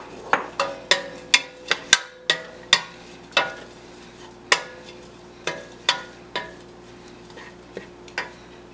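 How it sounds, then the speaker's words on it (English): Herbs frying in hot olive oil in a pan for marinara sauce, heard as a series of sharp clinks and taps from stirring over a soft steady sizzle, close and fairly loud with no talking. "now our olive oil heated up, so we're going to go ahead and put those herbs in there"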